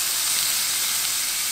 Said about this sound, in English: So I'm gonna add water to create some steam in here.